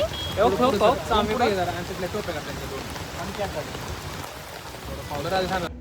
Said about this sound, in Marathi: तिथं खूप मोठा पाऊस सुरू झाला